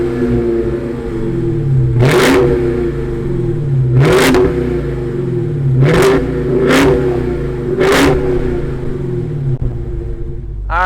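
Supercharged engine of a 2020 Dodge Charger Hellcat Widebody idling with a deep rumble and blipped five times in sharp revs, each rising to a supercharger whine and then dropping back, loud and close.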